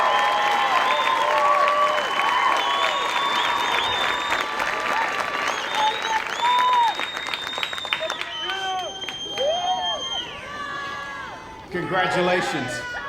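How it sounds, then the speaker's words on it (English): A large crowd at an Air Force basic military training graduation ceremony claps and cheers, dense sustained applause with whistles and shouts, fading near the end before a fresh burst. "how about one more round of applause for 823 of America's newest Airmen and Guardians"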